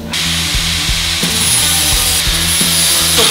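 A wooden edge is ground on a grinder with a steady, loud abrasive roar. A low, rhythmic thumping runs through it the whole time, with no talking.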